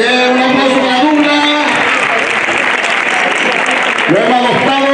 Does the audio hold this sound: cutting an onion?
no